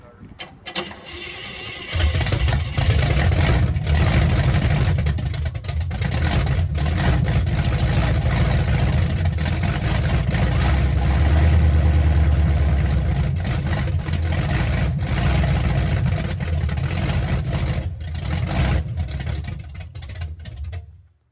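A 1960 Chevrolet Impala engine catches on its first start and runs loud and close, with a heavy, steady rumble for about twenty seconds before cutting off, and voices can be heard under the noise.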